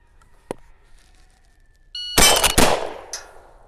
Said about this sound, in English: Two shots in the 64th of a second, but not sure if they both went on steel